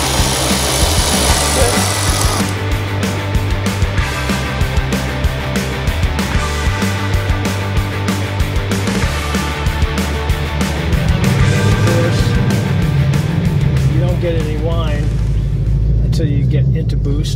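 Whipple-supercharged 2024 Ford Mustang V8 under medium to heavy load, a steady loud engine drone with a rising supercharger whine coming through toward the end, while people talk over it.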